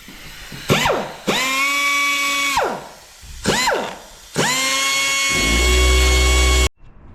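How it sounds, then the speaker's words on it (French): A power grinder cuts into the screw head of a motorcycle chain link during a chain kit replacement, two long steady whining passes with rising and falling pitch, loud and close, no talk. "on va poncer la tête de vis d'un des maillons pour pouvoir l'extraire"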